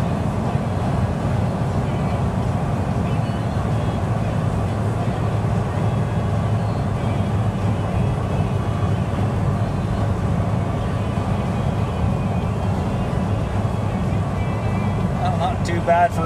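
A Mazda Bongo 4x4 mini truck with an 80-horsepower engine drones steadily while climbing a small hill, a constant low hum of engine and road noise heard from inside the cab, with someone talking throughout.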